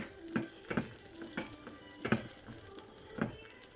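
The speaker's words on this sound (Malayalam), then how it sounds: "പിന്നീട് കുറച്ച് ഉണക്കമുന്തിരിയും കൂടി നമുക്ക് ഇട്ട് കൊടുക്കാം" Cashews and raisins frying in a pan for broken wheat rava payasam give a soft, quiet sizzle broken by a few sharp stirring scrapes at an uneven pace, with no talking.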